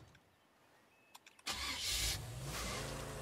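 A car in the zombie survival game State of Decay 2 starts up with a few quiet clicks, then its engine catches abruptly and roars as the vehicle pulls away, loud and close.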